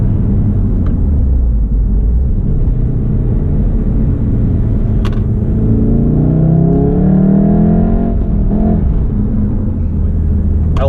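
A 2016 Volkswagen Golf R, all-wheel drive, accelerates hard through a tight corner, its engine rumble climbing steadily in pitch from inside the cabin, loud and continuous with no talk.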